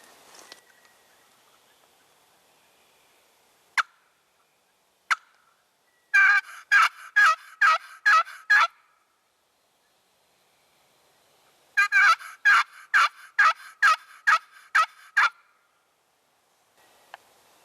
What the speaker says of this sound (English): I'm going to do a couple of raspy yelps.